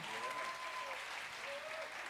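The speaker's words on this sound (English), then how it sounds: "How about a round of applause for our vocal teacher" An audience at a jazz music intensive applauds a vocal teacher, a soft, distant wash of clapping that holds steady, with a faint tone drifting through.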